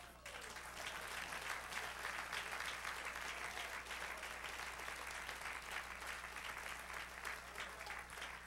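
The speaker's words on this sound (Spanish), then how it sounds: "Sí, dale aplausos." A church congregation applauds during a Spanish-language sermon, a steady, dense roar of clapping sustained for about eight seconds at moderate distance, with low hum underneath.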